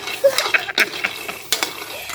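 Cashew nuts rattle and scrape in a pan as they are stirred and roasted, with small sizzling crackles and a few sharp clinks of a utensil against the metal.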